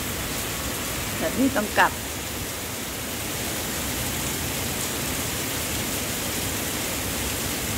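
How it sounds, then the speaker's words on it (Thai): Heavy rain pours down in a steady, loud broadband wash that fills the whole clip, with someone briefly speaking near the start over the downpour. "โอ้ฝนมาแรงเลยค่ะ"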